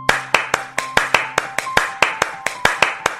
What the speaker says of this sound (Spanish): ¡Aplaude hasta que te diga que pares!